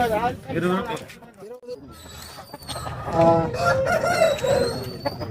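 A rooster at the Friday chicken market in Puduchandai, Tiruppur, gives a crow-like call amid close, busy talk and market bustle, with clucking fowl around it.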